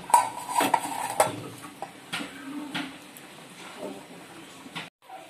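A metal utensil clinks and scrapes in a bowl while fresh jute leaf greens are mixed, giving a few sharp taps early and then softer stirring.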